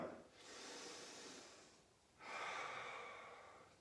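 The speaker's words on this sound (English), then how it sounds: "We're going to take 5 deep breaths before we go into the roll down." Slow deep breathing: a long airy inhale followed after a pause by a fuller exhale, close and soft, with no talking.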